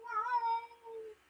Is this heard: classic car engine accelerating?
no